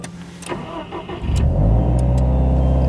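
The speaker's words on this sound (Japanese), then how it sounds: "はい、これでエンジンスタートになりました。" A Subaru WRX STI (VAB) engine cranks briefly and catches, settling into a steady loud low idle rumble close by.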